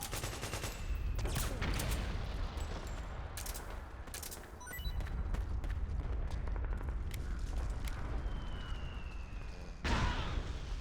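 Dense gunfire from a Metal Gear Solid 4 firefight, loud rapid bursts rattling almost continuously for about ten seconds, with a brief lull near the middle and a sharp burst at the end; a voice is faintly present.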